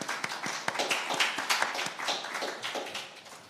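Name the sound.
audience applause at Nevis Mango Festival launch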